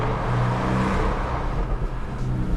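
Porsche 718 Boxster S with its four-cylinder engine revving, a loud raspy drone that rises and falls over a couple of seconds, close and without talk.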